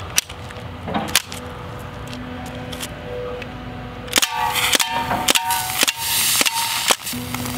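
A DPMS BB gun fired in semi-automatic mode gives several sharp, separate cracks in an irregular rhythm, loud and close, over a steady background hiss.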